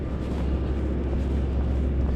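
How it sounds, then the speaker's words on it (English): A concrete mixer truck rolls past on a city street, a loud, steady low rumble of its heavy diesel engine and tires that fills the whole moment without a break, with no voices over it. "I believe it's a concrete truck."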